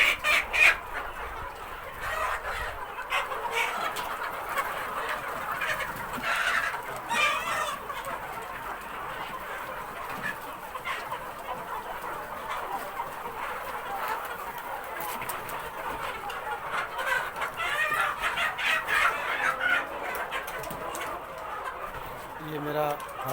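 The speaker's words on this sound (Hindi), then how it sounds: "कड़कनाथ मुर्गा है ये देसी" Kadaknath desi chickens cluck and call continuously on a poultry farm of about a thousand birds, a steady moderate flock chorus with occasional sharper calls and a voice talking now and then.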